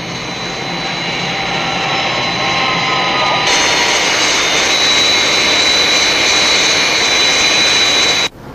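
Skythrust jet aircraft roaring through takeoff and levelling out, a loud continuous jet engine whine that shifts to a brighter, fuller roar midway, sustained and close before cutting off abruptly at the end.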